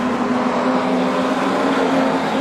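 Street stock race cars roaring around the Carina Speedway oval during a feature final, a steady loud engine drone with a strong sustained hum as the pack slides through a turn amid lapped traffic.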